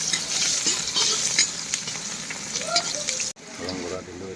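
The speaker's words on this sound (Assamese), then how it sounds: "মাছটো ফ্ৰাই কৰি আছোঁ মই" Fish frying in a pan with chillies gives a loud, close sizzle with stirring scrapes and bubbling, steady for about three seconds before a brief cut, then a slightly quieter sizzle resumes.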